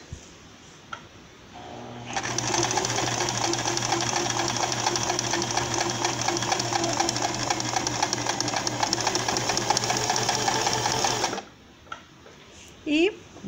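A Janome 2008 sewing machine stitches a buttonhole in one steady, continuous run of rapid needle clatter lasting about nine seconds, close and loud, with brief quiet handling before and after.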